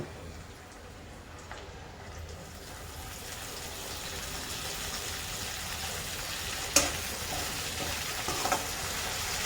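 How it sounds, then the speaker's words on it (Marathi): Tempering (tadka) for chivda sizzles steadily in hot oil with coriander leaves added, a continuous close-up frying hiss, a sharp crackle near the end. "चिवड्याचा तडका तयार झाला."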